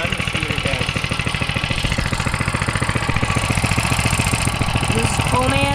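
A trail bike engine idles close by with a fast, even chugging pulse that stays steady throughout, while a person talks over it.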